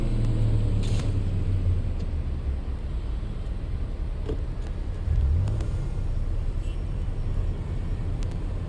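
An SUV driving through a city in The Matrix Awakens Unreal Engine 5 demo, a steady low engine and road rumble with faint traffic sounds, no talking.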